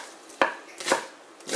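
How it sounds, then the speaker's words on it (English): Three crisp knife chops through green onions on a cutting board, evenly spaced and close, with quiet between strokes. "He's now chopping up the green onions."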